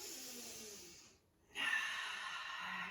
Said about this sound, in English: The breathing goes in through the nose.